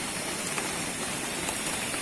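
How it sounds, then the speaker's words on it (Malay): Heavy rain at night, a dense, steady roar of downpour that is close and continuous with no pauses. "Dah pukul 9 malam, hujan masih lebat."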